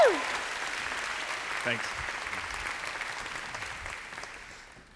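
A conference audience applauds a speaker taking the stage at a technology event. A dense, steady roar of clapping fills the hall and gradually fades out, with a brief spoken word near the start.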